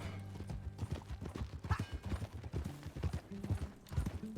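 Horse hooves clip-clopping at a steady riding rhythm in the Red Dead Redemption 2 video game, with a brief whinny partway through and a music score underneath, close and moderately loud.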